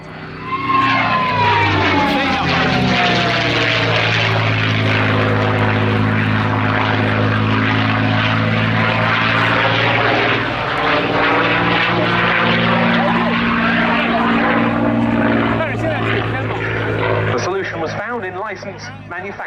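A North American P-51D Mustang's Rolls-Royce Merlin piston engine roars in a loud, steady throbbing drone that swells and holds, then eases off near the end, at an air show.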